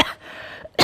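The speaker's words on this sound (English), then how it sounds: "Coughing during a break." Short coughing during a break at a chess and bridge mind-sports event, two bursts with a quiet gap between them, close and fairly loud.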